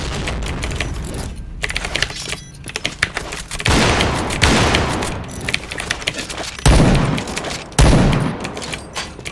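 Gunfire in the Point Blank shooter game, rapid crackling bursts of rifle shots with sharp loud onsets and short pauses between volleys, close and dense throughout.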